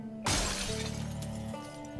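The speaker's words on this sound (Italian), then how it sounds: "Martello, spacchiamo il vetro e basta" A glass window smashed with a hammer in the survival game Project Zomboid: one sudden, loud shattering crash followed by a long, bright spray of breaking and ringing glass.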